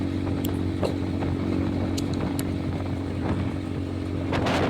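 Kawasaki KRY 200 motorcycle riding on a road, its engine droning steadily and loudly with wind rush throughout, alone with no talk.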